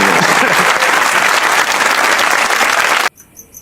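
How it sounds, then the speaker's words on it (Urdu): Loud, dense applause from a large crowd at a Pakistani political gathering, continuous for about three seconds before cutting off abruptly into near silence. "اور شہباز شریف صاحب کے لیے بڑی تالیاں"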